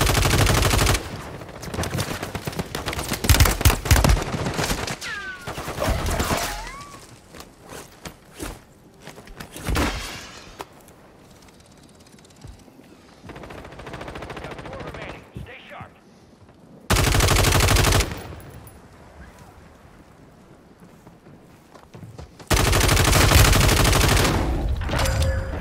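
Gunfire in Call of Duty Warzone Resurgence on Ashika Island aimed at a parachuting player. Loud bursts of automatic fire come in several clusters with quieter gaps between them. Footsteps and game sounds fill the gaps, and a voice speaks briefly.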